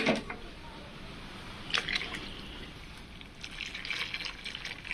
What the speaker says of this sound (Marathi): मी थोडी आमटी वाढवण्यासाठी ना त्यामध्ये पाणी टाकून घेणार आहे